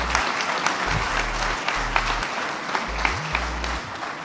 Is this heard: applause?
yes